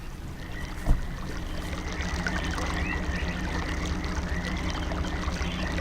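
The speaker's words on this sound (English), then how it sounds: "I've turned on the water" Continuous flowing, trickling water in realMyst, turned on by a lever, with a low rushing bed and a single soft knock near the start, steady throughout.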